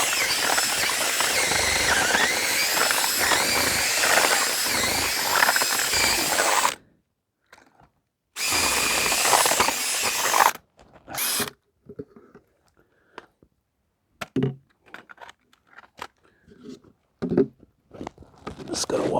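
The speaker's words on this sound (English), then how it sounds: "So I'm going to ream these holes out just to get some of the dirt out if I can" A power drill reams dirt-clogged holes in a dock, whirring loudly and continuously for several seconds, pausing, then running again in a short burst before giving way to intermittent clatter and outdoor knocks.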